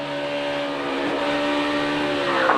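A NASCAR Sprint Cup stock car at the 2015 Coke Zero 400, heard onboard: a loud, sustained high engine drone with steady harmonic tones that ease slightly as the driver lifts off the throttle, no voices.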